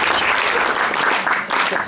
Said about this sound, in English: I'll have some round of applause for that